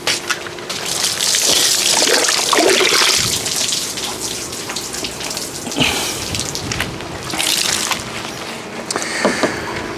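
A hose sprays water over a car finished with Gtechniq CSL and EXOv4 ceramic coating, making a continuous splashing hiss with shifting intensity and drips, like heavy rain on a surface.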